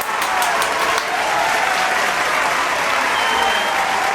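A crowd applauds steadily and loudly, a dense wash of clapping that holds at the same level throughout with no pauses.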